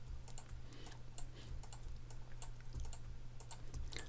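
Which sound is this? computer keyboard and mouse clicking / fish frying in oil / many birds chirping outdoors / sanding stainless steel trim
computer keyboard and mouse clicking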